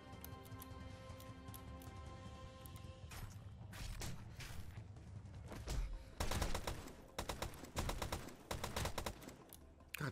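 Gunfire in the zombie survival video game 7 Days to Die comes as a barrage of sharp repeated shots, loud and close, in rapid bursts that grow denser toward the end, with no talking.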